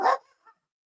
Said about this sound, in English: As y'all hear my dog going again.